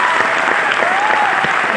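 Dense, steady applause from an audience at a convention in Rajasthan, with a voice faintly audible over the clapping.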